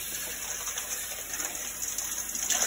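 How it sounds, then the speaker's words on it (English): Cold water pours steadily into a big bowl of ice to make an ice bath for blanching tomatoes, a continuous close rushing splash with no voices. "you want to make sure you put cold water in here."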